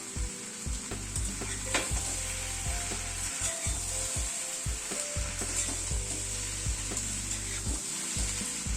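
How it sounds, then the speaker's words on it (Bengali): Chopped onion and tomato fry in a pan for a vegetable curry, a steady close sizzle with frequent scraping stir strokes in an irregular rhythm, no voices. "পেঁয়াজটাকে হালকা একটু ফ্রাই করে দেব"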